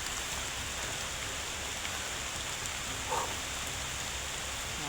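Rain falls steadily outdoors as an even, hissing wash with no breaks. There is one faint brief knock partway through.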